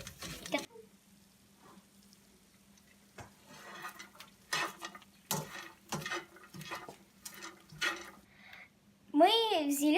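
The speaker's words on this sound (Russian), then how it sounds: "Сейчас мы мешаем зеленый цвет." A spoon stirs green-coloured homemade popcorn in a pot, making sparse ticking clicks and light clatter in a quiet kitchen. A voice briefly speaks at the end.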